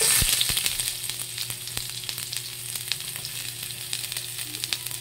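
Cooking oil sizzling in a pan while preparing Arabic food, a steady crackling fry with fine popping spatters, close and fairly loud with no voices.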